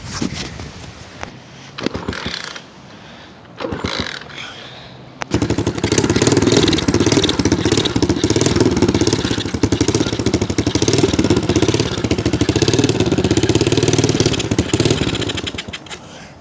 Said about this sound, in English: So this 90 is bogging out.